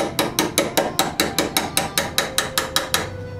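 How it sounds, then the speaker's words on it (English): Hardened solder flux is chiseled off a Stanley Bailey No. 4 hand plane in about fifteen evenly spaced, sharp metallic taps, close and steady with no talking. "What I'm chiseling off here is the flux"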